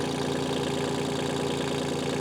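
A Kubota L245H tractor's diesel engine idles close by with a continuous, even rumble and a fast, steady knock, loud and unbroken, with no talking.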